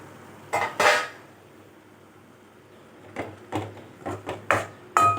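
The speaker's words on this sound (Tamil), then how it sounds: "இப்போ கீரையை ஓப்பன் பண்ணி பார்த்துடலாங்க" A pot lid is lifted off a pan of cooked spinach, giving a couple of metallic clanks, then a quiet pause followed by a string of short pot and utensil knocks close by.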